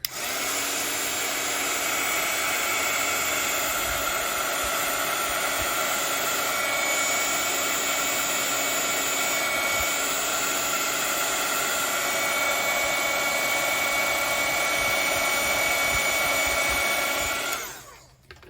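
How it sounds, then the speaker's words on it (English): A steady, loud whooshing roar of a heat embossing tool blowing hot air without pause, then cutting off abruptly near the end. "So I've got my heat tool and I'm just gonna heat this up real quick."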